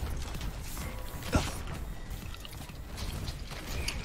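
Elevator machinery in an Overwatch scrim running as a steady mechanical whir with faint creaking and ratcheting, one brief clunk partway through, no talk.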